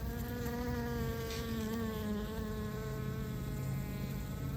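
Steady, continuous buzzing of honeybees close by, a droning hum with overlapping wingbeat tones that holds constant throughout.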